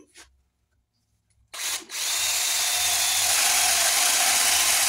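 After a short pause and a brief rev, a power drill whines steadily into white oak, loud and close, its grinding hiss continuing without break.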